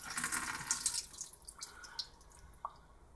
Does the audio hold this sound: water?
yes